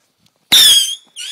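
A firework goes off close by in wind, giving a sharp, loud gunshot-like crack with a hissing, whistling tail lasting about half a second, then a brief second burst of fizzing a moment later.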